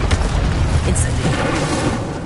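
Incendio fire spell cast in the Hogwarts Legacy video game, a dense booming burst of fiery noise that sustains steadily for about two seconds, loud and close, with a heavy low rumble and a brief bright flare near the middle.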